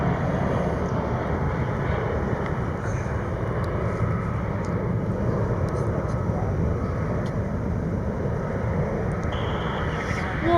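A departing airliner at Charlotte Douglas airport, heard as a steady, dense broadband engine roar that holds level throughout, distant but continuous, with faint talk beneath.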